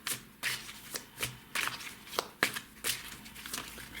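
A deck of tarot cards is shuffled by hand, making repeated close, crisp riffling bursts in an uneven rhythm with brief pauses between them and no talk.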